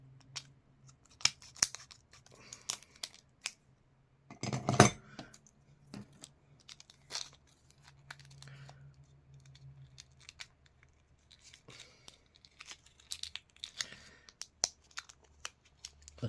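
Scissors snip through plastic battery packaging for a 2007 Honda Accord car key, a quiet scattered series of crisp clicks and cuts with one louder crunching tear partway through.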